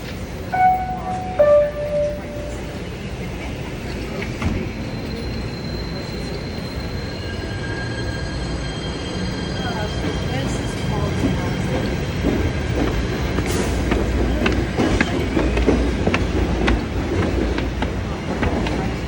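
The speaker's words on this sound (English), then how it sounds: "This is the train to World Trade Center." PATH train bound for World Trade Center running past Grove stop, a loud rumbling roar with wheel squeals and rhythmic clatter building steadily, a few chimes and tones early on, with people talking underneath.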